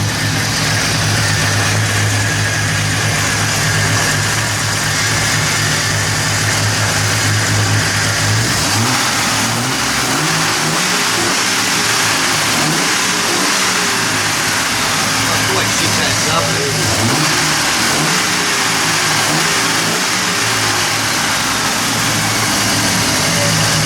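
A Triumph TR6 engine running after restoration, idling with a steady rumble and then revved in repeated rising and falling swells, close and loud, with a voice talking over part of it.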